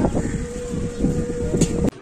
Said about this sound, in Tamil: அந்த அவ்வளோ சூப்பராக காற்று அடிக்குது மேலே